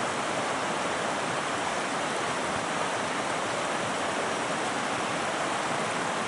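The Amiskwi River rushes over the ford crossing on a solo hike, a steady broadband roar of flowing water heard up close, continuous and even with no voices.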